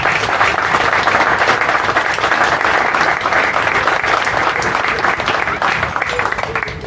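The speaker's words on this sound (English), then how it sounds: "Big round of applause to everyone who came out and supported" Dense, sustained applause from a spring concert audience fills the space, loud and even with many hands clapping at once, continuing without pause.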